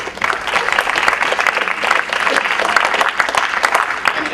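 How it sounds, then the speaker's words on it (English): Applause from a seated audience at a Lions Club service summit rolls on steadily at close range for a few seconds. It is loud and dense with no clear break. "Round of applause for him."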